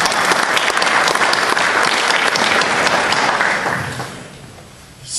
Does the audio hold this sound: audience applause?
yes